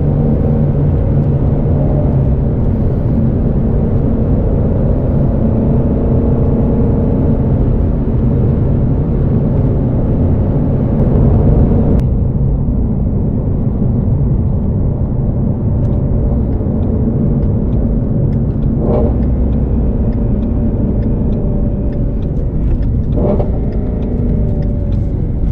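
A Shelby GT350R's engine roars loudly and continuously, with a sharp change in tone about halfway through as it shifts, then keeps droning steadily with a few faint transient blips afterward; no one speaks.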